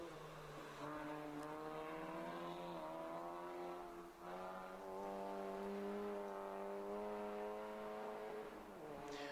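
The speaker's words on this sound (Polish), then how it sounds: "teraz bardzo szybkim Mitsubishi Kolcie Kacper Gawlikowski" A very fast Mitsubishi Colt rally car in class three climbs a mountain hill-climb course in Jodłownik, its engine holding a strong sustained tone that rises through revs, dips briefly at a gear change, then climbs again in the distance.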